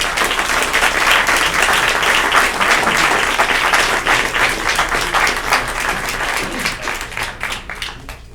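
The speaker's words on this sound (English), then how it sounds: "So, if you wouldn't mind, give them a round of applause." An audience at a regular scheduled public meeting gives a round of applause, loud dense clapping that holds steady, then thins and fades toward the end.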